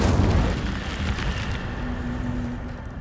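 An Incendio fire spell effect in a video game: a loud whooshing, rumbling burst that swells and slowly settles into a sustained roar.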